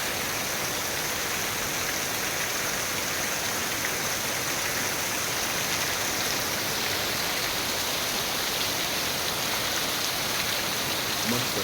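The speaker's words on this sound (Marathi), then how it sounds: "आणि हा यांच्या घराजवळचा पाऊस बघा" Steady, heavy monsoon rainfall in Konkan hisses evenly throughout, a constant wash of drops pattering on surfaces near a house with no breaks and no voices.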